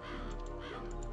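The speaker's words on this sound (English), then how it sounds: "Die, crows." Crows in the Psychonauts video game give several harsh caws over a dense, steady bed of game sound, all at a moderate, even level.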